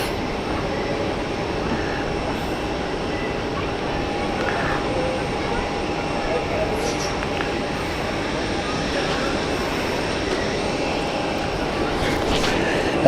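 A Swiss airliner sits at Zurich Airport, its engines a steady, distant broadband roar with a faint sustained tone, holding evenly throughout with no speech over it.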